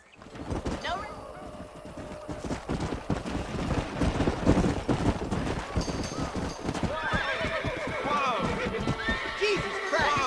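Wild horses in the Red Dead Redemption video game whinny repeatedly and gallop with steady hoof clatter, close and loud, with layered neighs that grow busier toward the end and no voices over them.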